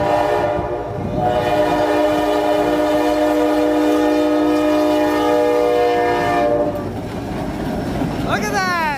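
Canadian National train rolling past with a loud, sustained multi-tone horn blast held for several seconds, steady rail rumble underneath, and a brief squeal near the end.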